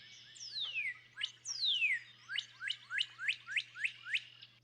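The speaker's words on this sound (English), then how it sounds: "This northern cardinal song is a common early morning sound across much of the U.S." A northern cardinal sings alone in early morning, starting with two long downslurred whistles, then a rapid run of about eight short, evenly spaced rising whoops, loud and close over a steady low hum.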